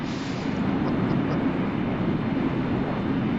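A loud jet airplane engine in the Flight Simulator video game, putting out a steady, close roar with no break across the whole stretch and no one talking.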